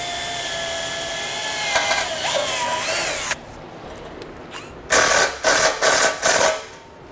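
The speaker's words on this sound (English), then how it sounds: "Then we'll just take a small drill bit and make a pilot hole there." A small drill bit bores a pilot hole while a Blue Ox base plate kit is fitted to a 2011 Chevrolet HHR. A rising motor whine comes first, then several short, loud drilling bursts close by.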